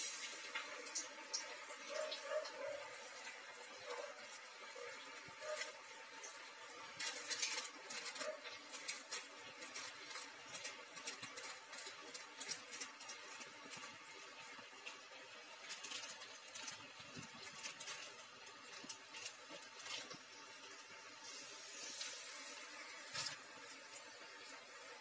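Spinach vada patties with a hole in the middle go into hot oil and fry with a faint, continuous crackling sizzle that flares up now and then and stays low throughout.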